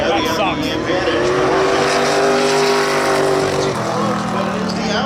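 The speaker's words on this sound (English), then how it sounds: "Matt DeRoches, he's on the outside in that Chevy Camaro going down the backstretch." A Chevy Camaro and an Audi at Seekonk Speedway spectator drags, engines roaring loudly and steadily with a rising, revving drone, while an announcer talks over the noise.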